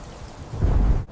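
Rain and a deep rumble of thunder over a young, drowning planet, a steady wash of rainfall that swells into a heavy low roll of thunder, loud and without voices.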